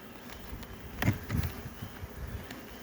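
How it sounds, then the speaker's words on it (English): Honey bees buzz around an open beehive in spring, a steady close-up hum with a few louder swells as the colony is handled. "bees are doing a good job"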